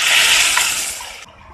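Tomato puree for a restaurant-style kadai paneer pours into the pan in a short, loud gushing rush that cuts off abruptly after about a second.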